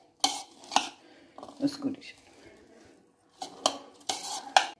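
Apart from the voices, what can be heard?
mixing vegetable salad with olive oil using a spoon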